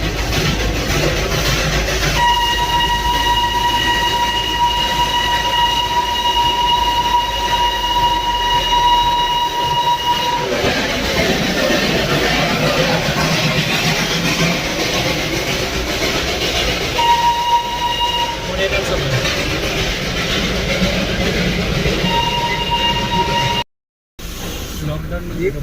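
A train rumbles past nearby in a loud continuous roar, its horn sounding in several long blasts spread across the passage, with a sudden brief dropout near the end.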